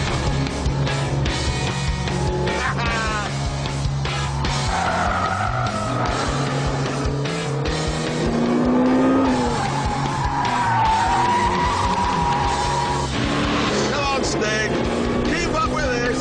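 A 1.8-litre Lotus Exige races a Ford Mustang with nearly three times the displacement and twice the cylinders around a short circuit. Engines rev hard and tyres skid and squeal, with someone talking over the racing.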